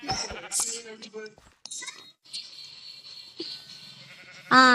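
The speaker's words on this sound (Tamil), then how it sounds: "இந்த ஆடு பள்ளியாடு" Sheep bleating in the Minecraft video game: several short, wavering bleats in quick succession, then a louder one at the end, alongside game sounds and a person talking.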